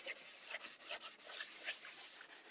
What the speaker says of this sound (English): So I'm scrubbing and I'm using pretty good pressure to scrub in there.